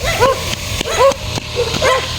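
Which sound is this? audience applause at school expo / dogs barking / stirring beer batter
dogs barking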